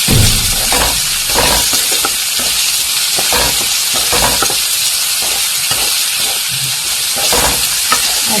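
Tomatoes sizzle and fry with lentils in a pan over a low gas flame for a drumstick dal, a steady loud hiss broken by regular scraping stirs throughout.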